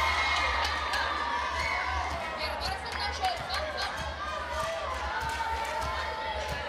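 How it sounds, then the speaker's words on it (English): A crowd at a Teqball women's doubles final in Paris cheers and chatters steadily in a large venue, with a commentator speaking over the noise throughout. "The crowd showing their support"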